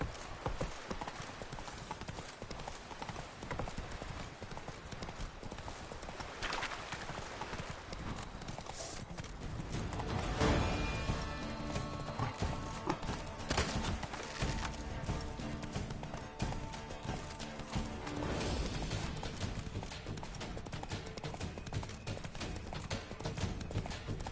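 Roach the horse galloping in the video game The Witcher 3, a dense continuous drumming of hooves that swells louder in the middle and again near the end, with an occasional snort and no clear talk.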